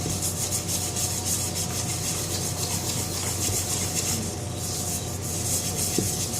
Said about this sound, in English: you take this thing and you whisk your ingredients so they're combined